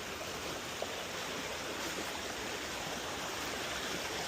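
Water rushing over rocks in a stream beside a rock slab, a steady broadband wash with no voices.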